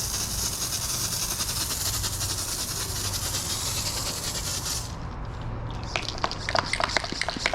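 A pump sprayer strains to push out thick foaming waterless-wash product, a continuous close hissing spray that cuts off partway, then returns as sputtering, uneven bursts.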